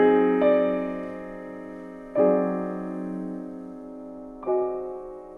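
Mompou's metallic chord played three times on a piano, each strike ringing out and fading slowly before the next. The three strikes are evenly spaced and the tone is clear and resonant, with no one speaking over it.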